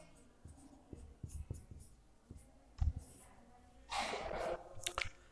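Marker or chalk strokes on a board during a Hindi chemistry lecture on solutions, a series of short scratchy taps and squeaks, then a longer brisk scribbling passage near the end.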